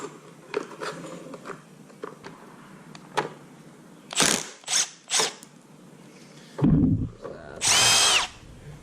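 A power drill removes screws from a walk-behind weed trimmer, with several short bursts of whirring close by, scattered clicks and handling clatter between them, and a longer final spin.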